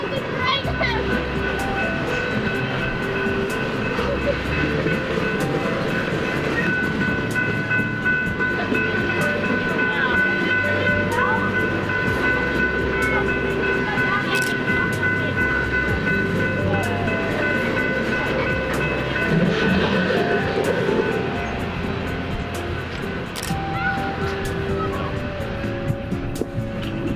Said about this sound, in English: The train is so long!